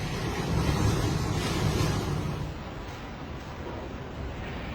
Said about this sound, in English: The wind howled as if it wanted to tear the space apart.